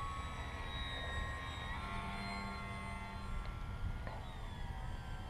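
A Durafly Tundra radio-controlled airplane flies overhead with a continuous buzzing electric motor whine that rises and falls in pitch as the throttle shifts, heard at moderate distance with no talking.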